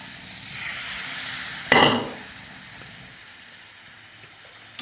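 Potatoes fry with spices for aloo dum, a low, faint sizzle broken by one brief scraping stir near the start and a small knock at the end.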